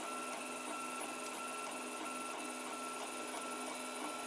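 A 3D printer runs with its nozzle traversing over a heat bed set to 60, laying down blue filament; a steady whirring, buzzing motor drone with faint stepper tones, continuous and close, with no talking.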